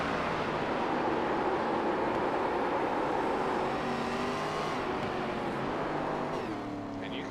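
A race car engine in iRacing at Mid-Ohio Sports Car Course drones steadily at high revs with a rough, sustained roar, rising and falling slightly as the tires burn up at speed.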